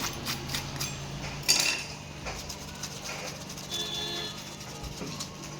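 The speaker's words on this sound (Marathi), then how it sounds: "तुम्ही पाहू शकता आवाजावरून तुमच्या लक्षात येत असेल किती क्रिस्पी झालेली आहेत आपले हे वडे" Crispy fried sabudana vadas are lifted and handled with a metal utensil, with light scrapes and clinks over a low background hum and one sharper knock.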